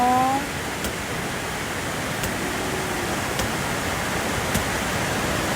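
A waterfall in Davao roars steadily and close, a dense, unbroken wash of falling water that stays even from start to finish.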